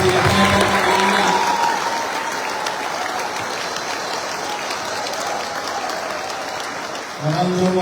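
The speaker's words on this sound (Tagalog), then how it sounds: "Palakpakan natin ang pinakamalakas yung palakpak para sa mga driver ng Manila." An audience in Manila applauds drivers, a loud sustained wash of clapping and crowd noise that thins gradually, with a voice speaking briefly at the start and again at the end.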